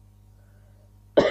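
A single sharp cough bursts out close and loud at the very end, following a near-silent stretch.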